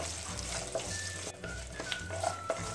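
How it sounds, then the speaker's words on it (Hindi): Cashews and peanuts roasting in a pan for lemon rice, giving a close, moderate sizzle with a few scraping stirs and clinks; a watery hiss runs through it. "मूंगफली का कलर हल्का सा ब्राउन होने तक आप थोड़ा सा भून लीजिए।"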